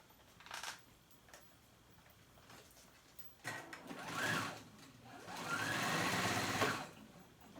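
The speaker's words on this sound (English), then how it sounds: "Fold it and top stitch it." A sewing machine topstitches a folded edge on a jacket that converts into a backpack, running in short close bursts with pauses and a brief clack between them.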